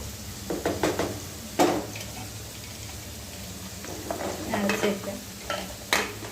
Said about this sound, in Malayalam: ഗൈസ് ഇളക്കാം കേട്ടോ.